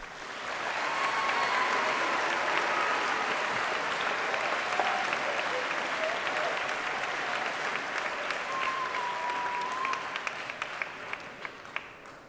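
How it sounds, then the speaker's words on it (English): Sustained applause from the audience at a high school convocation for award-winning students, a steady wash of clapping in a large hall that slowly tapers off to a few scattered claps at the end. "Let's give all these fine students a round of applause."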